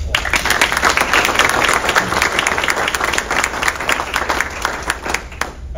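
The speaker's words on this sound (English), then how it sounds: "Let's give them another round of applause." A sizeable audience breaks into loud, dense applause for scholarship recipients at an awards ceremony, a continuous wash of clapping that holds steady for several seconds and then begins to thin slightly toward the end.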